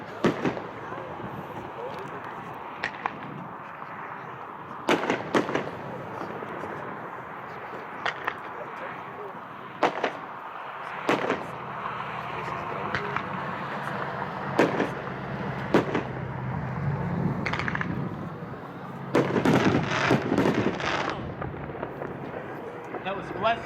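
A fireworks cake at a 2015 fireworks demo show fires a long series of sharp outdoor bangs at irregular intervals, with crackle and rumble between shots and voices faintly underneath.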